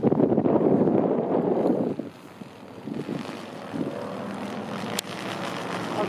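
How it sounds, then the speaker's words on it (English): A large 102-inch dual line stunt kite roars steadily in strong wind, a loud continuous rushing drone that drops in level after two seconds, then continues more softly with gusts and a brief sharp snap near the end. "Nice and loud, the way I like kites."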